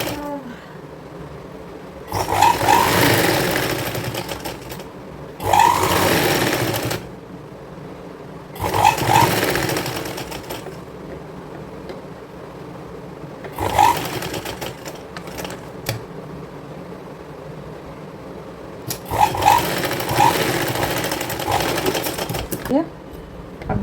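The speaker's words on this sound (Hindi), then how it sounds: "अब ये कपड़ा है जो इस तरह से अंदर करके और एक बाहर से सिलाई लगाएंगे।" A sewing machine stitches the fabric of a girls' co-ord set in five loud, close bursts of rapid clattering, each lasting a second or two, separated by quieter pauses while the fabric is repositioned.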